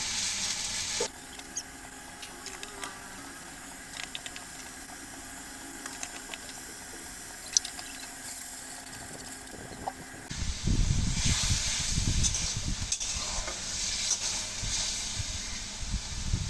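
Magur fish curry spice paste made with turmeric, chili powder and cumin fries in a pan. A faint hiss swells into loud, crackling sizzling for the final several seconds.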